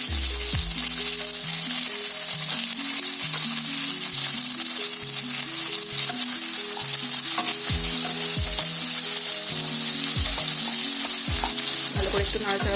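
Onions and chopped tomato fry in a pan for an egg curry, with a steady dense sizzle. Loud stirring scrapes recur throughout, and no voices are heard.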